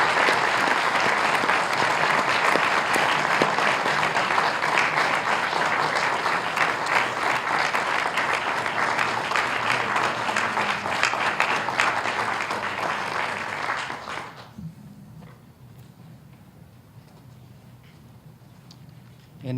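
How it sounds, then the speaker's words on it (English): Sustained, loud audience applause fills a school military signing ceremony hall for about fourteen seconds, then cuts off to near silence with faint room noise. "Please join me in a round of applause."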